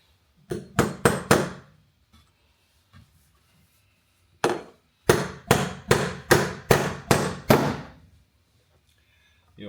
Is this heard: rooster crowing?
no